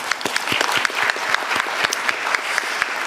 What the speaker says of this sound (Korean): 제가 박수 한번 드리고 싶습니다